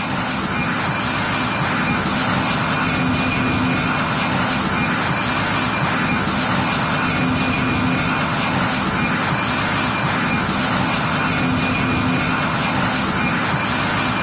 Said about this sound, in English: The aircraft lifted smoothly off the runway, climbed to its cruising altitude